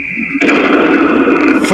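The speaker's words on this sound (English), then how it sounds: "Fourth explosion" A single volcanic explosion boom bursts in abruptly and loudly, then spreads into a broad, rumbling roar that fades slowly with a hissy, distant texture.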